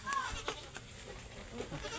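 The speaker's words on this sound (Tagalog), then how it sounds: "Yung mga kambing natin, ayan." Goats on a farm, all uncastrated bucks, give a faint, distant bleat or two over quiet outdoor background noise with light rustling.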